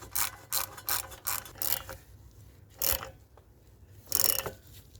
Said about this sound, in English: So I'm going to fit my ratchet, if I can find it. Just set this to loosen.